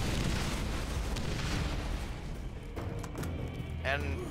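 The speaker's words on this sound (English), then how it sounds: "I threw a grenade." Grenade explosion in the video game Borderlands, a loud, broad rumbling blast that fills the opening seconds and slowly decays, followed by scattered game noise and a brief voice near the end.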